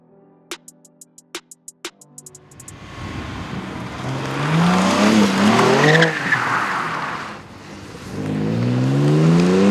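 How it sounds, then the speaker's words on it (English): A BMW M2 G87 slides on a mountain road, tires squealing loudly under a revving engine after a few sharp clicks at the start; the squeal swells, fades, then rises again near the end. "I thought that slide was pretty good, but the BMW M drift analyzer says otherwise"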